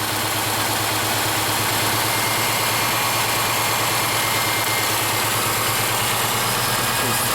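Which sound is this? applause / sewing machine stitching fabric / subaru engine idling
subaru engine idling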